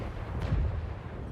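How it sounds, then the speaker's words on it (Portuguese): A single Type 5 Heavy tank cannon shot fires in World of Tanks, a brief muffled low boom amid a constant rumbling game background. "Deixa eu ver onde bateu o tiro."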